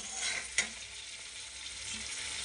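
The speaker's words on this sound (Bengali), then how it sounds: "আমার মশলা দিয়ে তেল ছেড়ে দিচ্ছে" Spice paste frying in oil for a bhola fish curry, a quiet steady sizzle with a brief clink of utensil against the pan early on and no one talking.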